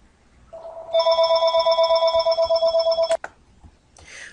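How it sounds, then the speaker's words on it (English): Telephone ringing indoors, a rapid warbling electronic ring with a pulsed trill, loud and close for a couple of seconds before abruptly cutting off. "I just had a phone call."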